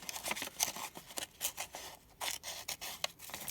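Scissors snip through paper for a cutout made from upcycled maze sheets, a close, quiet run of crisp irregular cuts with short pauses in between, no voices.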